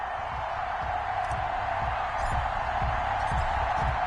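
Stadium crowd noise from a Madden NFL game before a Detroit Lions versus Indianapolis Colts matchup, a steady loud crowd roar with rhythmic low thumps and no talk.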